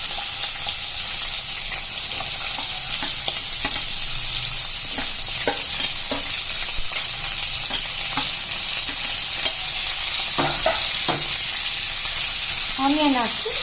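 Sliced onions fry in four to five tablespoons of oil for an Andhra-style chicken fry, a steady loud sizzle with occasional close clinks and scrapes of stirring throughout.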